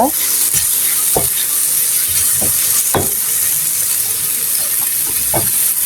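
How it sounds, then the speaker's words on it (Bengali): An egg is stirred into frying cabbage and ginger for a vegetable snack, giving a loud, steady sizzle and hiss broken by spatula scrapes about once a second. "একটা ডিম দিয়ে দিলাম এখন আমি ভালো করে সবগুলি মিশিয়ে নিব"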